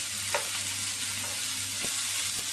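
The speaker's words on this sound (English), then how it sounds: "Right, stir them around. You don't want to let the onions burn, whatever you do" Onions frying on a camping gas stove, a continuous close sizzle with a few soft stirring scrapes and a constant low burner hum underneath.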